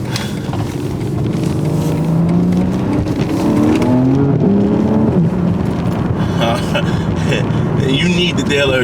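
A BMW G82 M4 fitted with an aftermarket exhaust revs loudly and steadily, engine pitch rising and falling in sustained pulls, with a voice talking over it.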